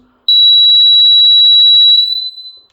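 An old water tank level alarm buzzer, under repair, gives one loud, piercing, continuous electronic tone for about two seconds before it falters and dies away.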